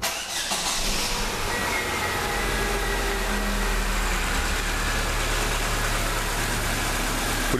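A Fiat Stilo 1.8 8v from 2007, just fitted with new tappets and rocker arms, catches after a short crank and settles into a steady, smooth idle close by, with no voices.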